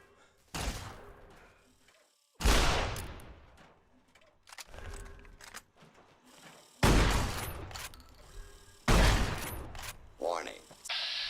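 Gunfire in Fallout: New Vegas comes as a few loud, sharp bursts spread across the span, each one decaying quickly, with quieter stretches and mechanical rattles between them.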